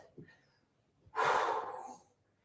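A person takes a big deep breath while holding a hip stretch during a home strength workout, with one loud breathy exhale rushing out for nearly a second after a small earlier intake.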